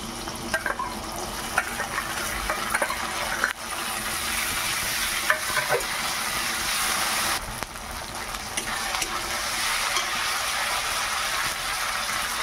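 A paste of ginger, garlic, cumin and dry red chillies fries loudly in hot oil for a fish and potato-pointed gourd curry, giving a dense, constant sizzle with brief scraping stirs throughout.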